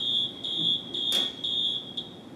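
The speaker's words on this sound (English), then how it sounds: "do you remember that sound in school of that fire alarm?" A shrill electronic school fire alarm beeps in a steady repeating pattern, loud and piercing, with a brief clatter partway through.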